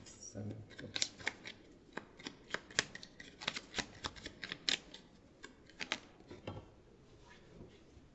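Tarot cards are shuffled and laid down in a run of crisp flicks and slaps, some louder snaps standing out, with a voice talking quietly beneath at times.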